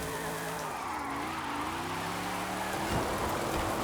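A car in Forza Horizon 5 taking a corner at full throttle, with a steady engine drone whose pitch rises and falls and a short tire scrub near the end, continuous and close.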